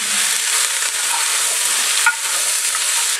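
Chicken thighs sizzle loudly in a hot pot for green chicken chili, a steady close frying hiss with faint scraping as they are stirred.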